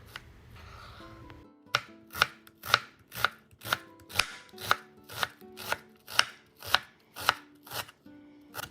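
A knife chops through a whole onion on a board, about fourteen crisp, evenly spaced strokes following a brief rustle, close and clear with no speech.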